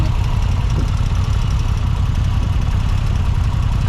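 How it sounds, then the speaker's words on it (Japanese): A Moto Guzzi V7 motorcycle engine idles steadily, a loud, even low rumble running continuously with no voices over it. "アイドリングが全然違う。"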